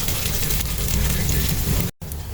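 Luncheon meat hits a pan of melted butter with garlic and onion, frying with a loud, dense, close sizzle that cuts out for a split second near the end before resuming.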